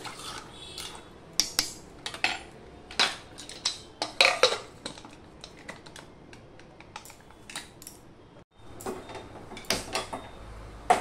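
Chickpeas, boiled with baking soda, being mixed in a pot with a utensil, giving a series of close, sharp metallic clinks and scrapes in irregular bursts with brief pauses.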